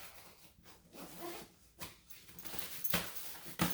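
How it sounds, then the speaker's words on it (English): A zipper is drawn closed on folded camping gear, with several short rasping pulls close by, the last two sharp and loud, between soft rustling of fabric. "zips back up."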